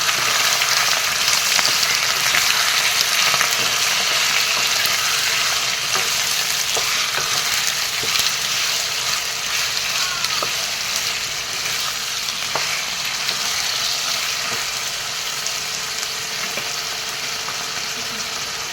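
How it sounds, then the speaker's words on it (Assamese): Chicken pieces being stirred as they fry in a pan for a dry chicken fry, giving a steady, fairly loud sizzle with occasional clicks and scrapes of the spoon throughout, no talking. "মাংসখিনি এনেদৰে অলপ কৰি ইফালৰ পৰা লৰাই যাম।"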